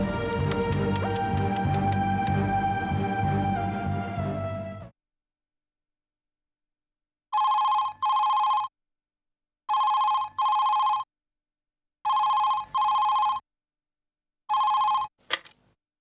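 A telephone bell rings in four separate bursts with silent gaps between, loud and close, after a stretch of sustained music that stops abruptly; a short clunk follows as the phone is picked up.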